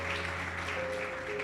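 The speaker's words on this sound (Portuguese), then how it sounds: "Pode aplaudir ao Senhor." Church congregation applauding the Lord at a worship service, a steady wash of clapping held at a constant level for the whole stretch, with a sustained hum running beneath it.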